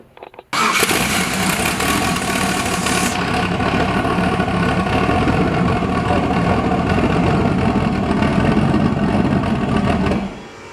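An eight-rotor rotary engine in a Mazda RX-7 starts abruptly after two years unused and settles into a loud, steady idle set too low, around 500 RPM, with a low, continuous rumble, running about ten seconds before cutting off.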